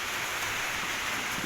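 Steady rain falls outdoors around a pigeon loft, making a dense, even hiss of drops with no pauses and no voices.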